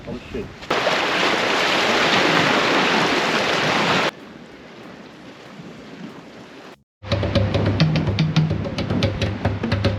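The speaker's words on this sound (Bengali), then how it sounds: "শুধু সমুদ্রের ঢেউ আর বাতাসের নরম শব্দ" Wind and Baltic Sea waves at Kotka beach in Finland make a loud, steady rushing wash that drops to a softer hush partway through, then cuts out briefly before a different, rougher stretch of noise.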